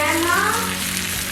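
Chicken pieces frying in a hot pan, a loud continuous sizzle with a brief shift in texture as they are flipped, close and alone.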